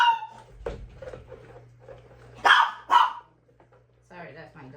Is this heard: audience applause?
no